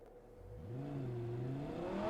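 A car in Cyberpunk 2077 accelerates hard, its engine note climbing steadily in pitch from quiet to a strong, close whine over two seconds, with no talk.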